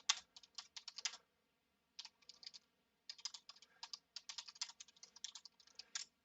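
Light, quick keystrokes on a computer keyboard come in irregular bursts separated by brief pauses, quiet and close with no talking.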